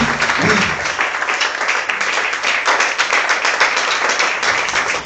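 Church congregation at a Sunday service applauding in praise, dense steady clapping from many hands filling the room throughout.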